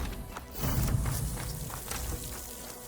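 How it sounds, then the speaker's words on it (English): Rain easing to a light drizzle in the Horizon Forbidden West video game, a steady soft patter with some faint thuds like footsteps, continuous and moderately quiet. "Down to a drizzle. Almost over."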